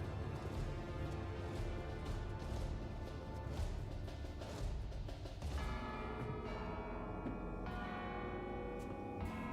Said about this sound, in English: Who'd ring the bell at this hour?